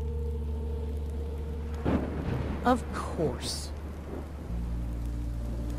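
Steady rain hisses in Minecraft Story Mode, with low rolling thunder rumbling under brief conversation between characters.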